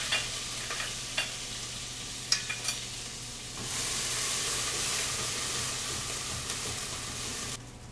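Ginger paste frying in a pan on an Indian cooking show, a steady broadband sizzle with a few sharp stirring scrapes early on, then the hiss swells louder and holds evenly until it cuts off near the end; no talking.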